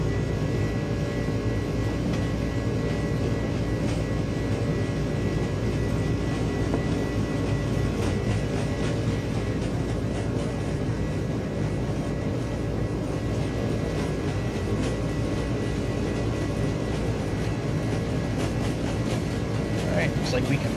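Airliner takeoff roll in a flight simulator, an iniBuilds Airbus A300, with a loud continuous engine roar and rumble holding steady throughout.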